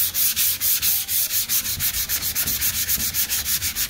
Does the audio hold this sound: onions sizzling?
no